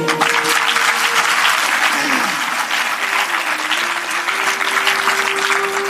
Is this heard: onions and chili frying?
no